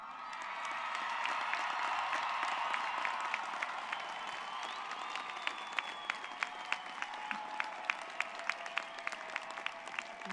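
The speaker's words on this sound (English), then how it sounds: "would you please stand if you are able and give us a loud cheer?" Large graduation ceremony crowd at a university commencement cheers and applauds steadily, with dense sustained clapping that thins to scattered individual claps toward the end, some whistles and shouts in the mix.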